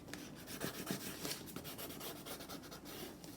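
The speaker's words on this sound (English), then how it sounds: "And burnish that to make the glue stay in place." Burnishing glued paper down onto a page of an envelope journal made from Tim Holtz 8x8 papers: soft, close, quiet rubbing strokes, rapid and rhythmic, scratchy and papery, with no voices.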